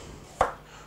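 A single close knock of a regular kitchen knife cutting through a skin-on potato onto a board, short and moderately loud against quiet room tone.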